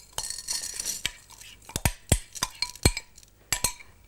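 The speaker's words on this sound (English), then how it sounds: "just stir it round so that all the rice grains get coated with the pesto and the oil in the sauce coats them nicely" Cooked rice grains being stirred with pesto and oil in a pan, a series of sharp clinks and scrapes from a utensil against the pan at an irregular pace, close and clear.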